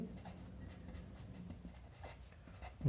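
Pen or marker scratching out a math solution for a class-12 integrals exercise, a soft steady scraping texture running throughout, quiet and close, with no voices.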